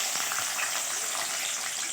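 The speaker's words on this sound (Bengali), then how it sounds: "সবুজ ক্যাপসিকামটাকে দিয়ে দেওয়া হচ্ছে কড়াইয়ের মধ্যে" Green capsicum fries in a hot wok, giving a steady, close hiss of sizzling oil that holds evenly throughout with no voices.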